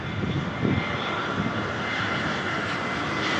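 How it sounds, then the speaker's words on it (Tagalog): Propeller airplane flying low overhead as it comes in to land: a steady, loud droning engine roar holding throughout, with no talk. "may palanding na aeroplano ba yan"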